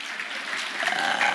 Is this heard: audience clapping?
yes